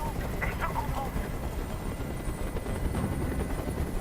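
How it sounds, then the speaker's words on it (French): A helicopter hovers in the video game Detroit: Become Human, a steady loud thudding rotor drone throughout, with a voice speaking faintly over it. "Je peux plus supporter ce bruit. Fais dégager cet hélicoptère, maintenant!"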